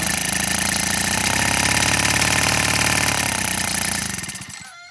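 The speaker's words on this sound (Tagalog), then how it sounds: "Dapat pino yung andar nito. Tapos wala pa siyang idle." Subaru grass cutter engine running loud and steady close by, without a proper idle, then quickly fading out as it dies near the end.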